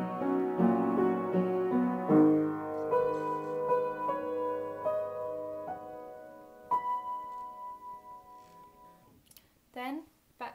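Piano plays the part, a gentle sequence of chords and single notes that decay and thin out over several seconds, close and alone, ending with a brief voice.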